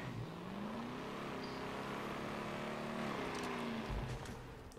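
A vehicle drives in the Halo 5 game, its engine a steady droning hum that rises and dips in pitch as it speeds along, running continuously at moderate volume.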